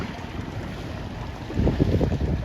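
Steady wind noise at a sailing regatta for C420 dinghies on open water, a constant rushing roar that strengthens in gusts toward the end, with no voices.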